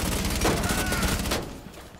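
A close, rapid volley of automatic gunfire rings out in Rainbow Six Siege, loud and continuous for over a second before tapering into quieter background noise.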